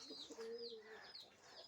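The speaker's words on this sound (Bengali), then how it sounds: "এই যে এদিক দিয়া আমার কবুতরগুলো অস্থির" Domestic pigeons coo in a backyard loft, a few soft rolling calls close by, with faint higher chirps from other birds around them and no talking.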